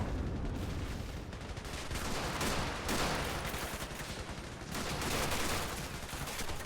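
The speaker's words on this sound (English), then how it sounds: "Look at the insane damage and carnage that's going down right now with all the machine gun fire." Machine gun fire rages during a battle in a realistic war video game, a dense, continuous roar of rapid shots and explosions that never lets up.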